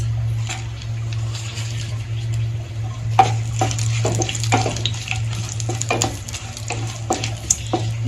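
Cinnamon sticks with black and green cardamom frying in foaming mustard oil in a village kitchen, a close bubbling sizzle broken by repeated stirring clatters over a steady low hum.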